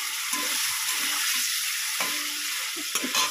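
Soft paneer fries in a pan with a bright, steady sizzle, and a spatula taps the pan a few times.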